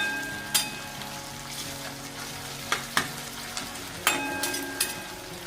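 Tomatoes and spices fry for Maharashtrian tur dal varan, a steady close sizzle running throughout, punctuated by sharp spoon clinks and scrapes against the pan; there is no talk.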